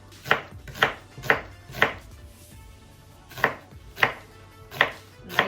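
A knife slices through an onion on a cutting board, eight crisp, distinct chops in two groups of four with a pause between, close and fairly quiet, no voices.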